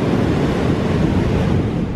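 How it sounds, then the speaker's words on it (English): Strong wind buffets the microphone on flat, exposed Ocean Beach, a loud, steady roar with surf mixed in and no voices. "it's really flat and long and there's not a lot of protection, so the wind is pretty strong"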